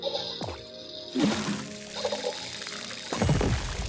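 Watering plants in the video game Grow: Song of the Evertree: a few pouring, splashing bursts of water, the first near the middle and a longer one toward the end, set against ambient game music.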